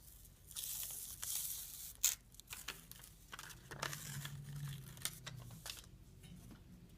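Freezer paper pattern pieces peeled off quilt fabric, giving a run of soft tearing and crinkling rips and rustles, some sharper pulls, close and fairly quiet with no talk.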